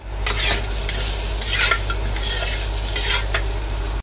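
Potatoes frying in hot oil for a meat dish, a loud constant sizzle with a low hum underneath and several brisk stirring scrapes of a utensil in the pan, close by and without speech.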